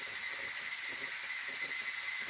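Steady, loud hiss of steam venting from an electric pressure canner during chicken canning in a home kitchen, continuous and unbroken with faint low clatter beneath.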